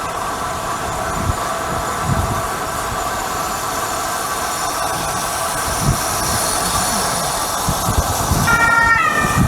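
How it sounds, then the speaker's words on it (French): An ambulance siren wails steadily, loud and fairly near, over rushing road and wind noise during a downhill ride in the French countryside, with no talking. "Les pompiers. L'ambulance, pardon."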